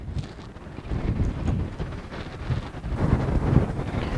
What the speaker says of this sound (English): As you can see today, it's extremely windy